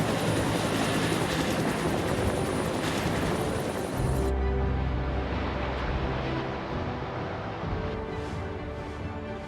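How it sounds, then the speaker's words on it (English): Firefighting helicopters loaded with flame-suppressing foam flying over a wildfire, a loud continuous rotor and engine roar that stays steady and fills the whole stretch. "These helicopters are loaded with thousands of liters of specialized flame-suppressing foam."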